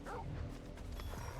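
A wolf in Final Fantasy 16 gives a quick run of close, yipping bow-wow barks against steady game music and ambience, short and loud for the moment.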